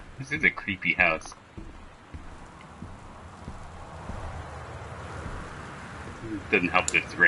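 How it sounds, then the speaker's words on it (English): Rain falling outside a house in the video game Gone Home, a soft steady patter that fills the gaps between short bursts of speech at the start and the end. "It doesn't help that it's raining."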